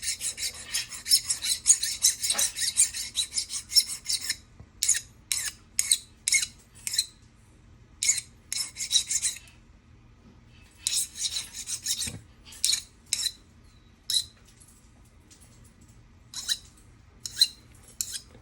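Metal file rasping along the sides of a handmade boxcar jaw harp, smoothing the taper and removing roughness; close, repeated scraping strokes in uneven bursts with short pauses, no talking.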